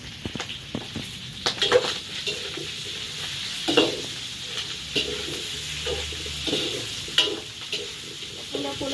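Pork fat frying in a pan for cooking shrimp paste: a constant sizzle broken by crackling spatters and scraping stirs of a long utensil against the pan, loud and close, with no voices.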